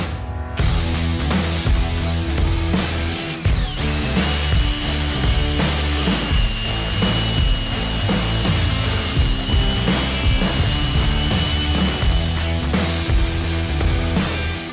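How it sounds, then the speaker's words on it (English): A continuous loud power drill bores a series of holes into wood for a chair-leg mortise, the motor whine steady and close throughout with shifting pitch as the bit cuts. "So I drilled a bunch of holes"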